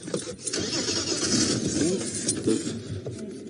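A safari vehicle with a faulty clutch lurches forward in the bush while a lioness is nearby, its engine revving in a loud, close, rough roar with clunks and rattles. No one talks.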